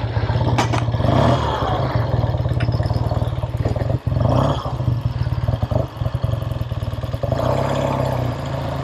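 A 1968 Triumph Daytona 500 motorcycle engine close by, loud and rough with clattering pulses and uneven throttle blips as the bike rides off, no talk.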